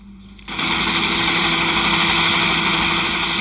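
A helicopter engine and rotor start up or close in abruptly, then roar loud and steady with a constant droning hum, with no talk over it.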